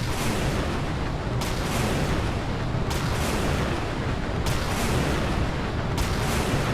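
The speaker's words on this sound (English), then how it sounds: "And out go the Tomahawks" Tomahawk missiles launching in rapid succession from a Zumwalt destroyer in the naval combat game Sea Power, a continuous roaring rush with four sharp bursts recurring at roughly one-and-a-half-second intervals, loud and dense throughout.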